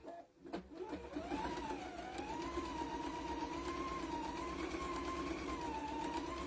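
A sewing machine stitches across the folded top of fabric at a 3.5 stitch length, starting with a click and then running as a steady, close motor whine with a slightly wavering pitch, without talk.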